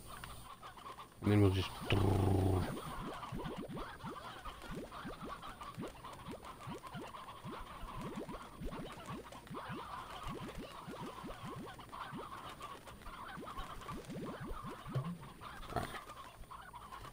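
Slime Rancher video game chickens (hens) let out a quick burst of loud clucking near the start, then someone talks over fainter game ambience for the rest.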